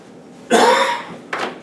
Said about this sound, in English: Sorry for my coughs today.